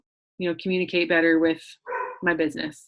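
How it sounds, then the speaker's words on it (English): A dog barks a few times in a home, partly under a person talking close by. "you can hear that because the dog's barking"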